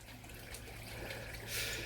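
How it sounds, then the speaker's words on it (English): Steady broadband wash of running water into a fish pond, a soft continuous trickle that swells louder near the end, with a low hum underneath. "you might be listening to the sound of running water"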